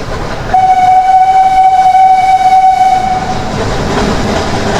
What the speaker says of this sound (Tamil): இந்த ஒரு ட்ரெயினுக்காக இத்தனை நேரம் நிற்க வச்சாங்க